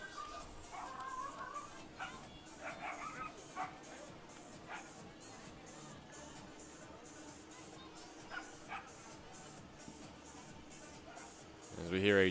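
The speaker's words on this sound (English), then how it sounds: "As we hear a dog barking in the background from beneath the bleachers" At a college softball game, a dog yips and barks in short bursts from beneath the bleachers, faint and distant under steady talk.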